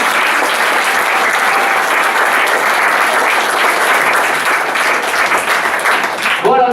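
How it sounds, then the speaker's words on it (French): A crowd at a festive awards show breaks into loud, continuous applause, a thick steady roar of clapping that holds for several seconds and cuts off abruptly at the end. "Merci de les applaudir."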